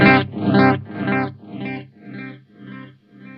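Processed guitar through a Line 6 Helix digital delay switched to vibrato mode at low depth: a few sustained chords or notes ring out with wavering, chorus-like repeats that decay and trail away alone.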